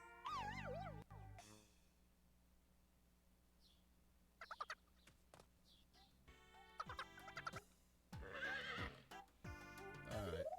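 A horse neighs during a bonding event in Miitopia, several bright whinnies rising and falling over soft game music, with scattered chimes and effects in between.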